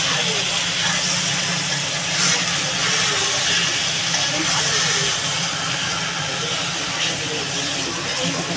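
Broth poured into hot fried spice paste for a Bengali fish curry gives a loud, steady hiss and steam roar that fills the whole stretch without letup.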